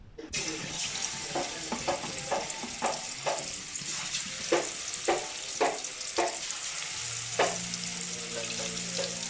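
Fish frying in hot oil in a village kitchen, a steady sizzle punctuated by regular sharp crackles and splutters, with a low hum entering near the end and no talking.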